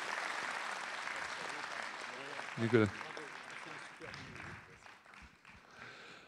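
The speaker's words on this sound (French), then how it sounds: "applaudissements à lui" An audience at a town's New Year's greetings ceremony in Yerres breaks into a burst of clapping, moderately loud and fading, mixed with someone speaking over a PA and a crowd murmuring.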